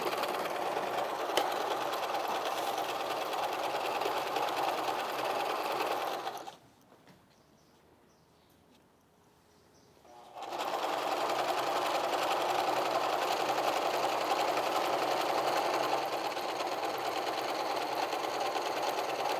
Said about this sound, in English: we're going to just sew the top part. We're going to do the back and forth to make sure it's secure